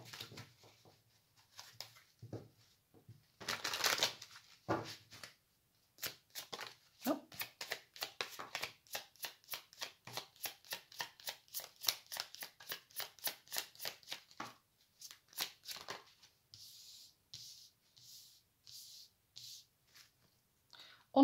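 Tarot cards are shuffled close by, with bursts of quick rhythmic riffling and slaps repeating in sequence, then softer flicks and placing sounds.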